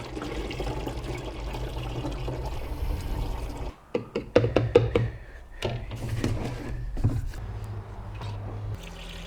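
Diluted engine coolant pours and gurgles into a plastic bottle during a Jeep Cherokee XJ radiator replacement, broken by a few sharp plastic knocks and clatters partway through, then the steady pouring resumes.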